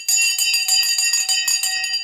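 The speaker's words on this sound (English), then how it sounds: "Let me ring the bell. In 3, 2, 1. The bell has gone." A bell rung during a live stock-market stream rings out in a rapid, continuous series of bright metallic strikes that stays loud and steady for about two seconds, with no talking over it.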